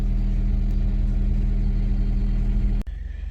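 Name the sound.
Citroen DS3 engine running while driving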